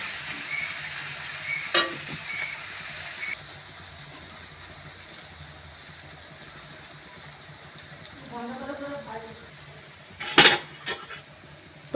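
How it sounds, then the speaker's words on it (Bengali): Onions salted and frying until browned for chicken ghole give off a bright sizzle that fades after a few seconds into a softer simmer, with a brief voice and a sharp clank of a utensil near the end. "লাল করে ভাজা হবে।"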